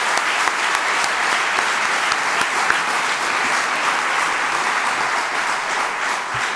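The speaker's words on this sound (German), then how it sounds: "für das allein dürfen wir schon mal einen kleinen Applaus geben." Lively applause from a comedy show audience for Patti Basler, dense and continuous clapping at close range holding steady throughout.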